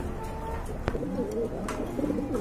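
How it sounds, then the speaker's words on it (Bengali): A pair of fancy running pigeons coo softly and repeatedly at close range, with a faint murmur of background voices. "খুবই সুন্দর এক জোড়া রানিং কবুতর"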